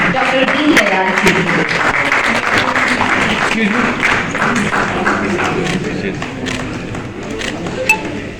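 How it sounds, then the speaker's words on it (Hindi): Audience applause at an Indian award ceremony, a dense, loud and sustained wash of clapping from a large hall crowd that holds steady throughout. "तालियां हो जाएं डॉक्टर दीनदयाल जी।"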